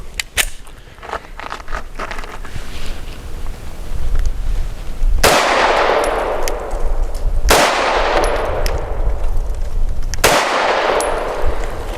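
A Tisas Zigana PX-9 G2 pistol fires Winchester Super Clean 90-grain rounds outdoors, each loud sharp crack ringing out over a few seconds with gaps between shots, plus small clicks and handling sounds early on.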